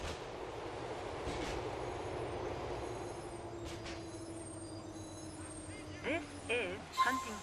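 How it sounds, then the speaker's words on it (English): Low rumble of a GTA IV train rolling into Huntington Street Station, steady under faint chatter, then rising whistle-like squeals and a brief chime as it nears the end. "The train is approaching Huntington Street Station."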